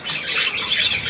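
A seagull squawks in a few harsh, close, rapid bursts, a raspy repeated call on its own with no voices.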